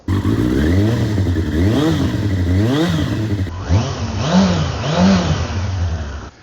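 Kawasaki ZX6R Ninja motorcycle with its stock exhaust revving in a run of loud, close throttle blips, each rising and falling sharply, with no talk over the engine.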